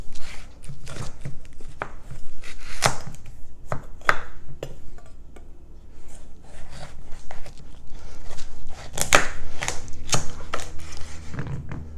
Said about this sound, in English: take the squash, cut it in half